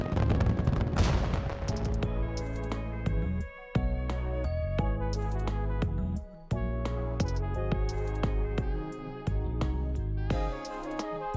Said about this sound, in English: So, these were ground fireworks?